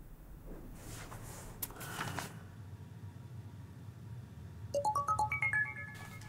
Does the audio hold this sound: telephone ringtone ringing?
yes